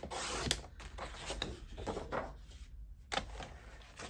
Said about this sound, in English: I'm going to just cut a little bit of a strip here